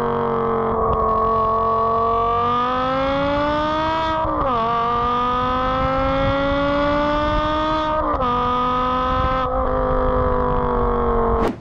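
A BMW M5 with its V10 engine and original exhaust revs loud and close, a smooth, steady howl that swells and eases through three or four long pulls without any voices.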